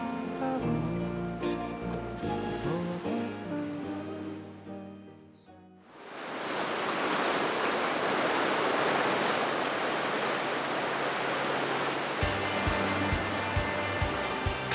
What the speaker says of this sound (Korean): 달빛이 드리운 밤바다에는 파도 소리만이 끊이지 않습니다.